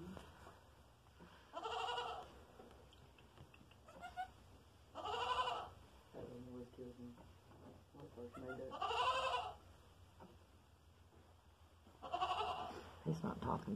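A goat bleats repeatedly in a goat house where another goat is giving birth, four drawn-out, wavering calls spaced a few seconds apart, fairly close but quiet, with soft background noise.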